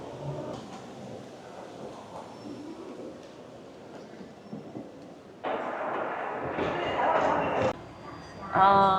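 Rumbling interior of a Taoyuan MRT train in motion, steady rail noise with a louder surge partway through, and some faint voices and chimes in the background.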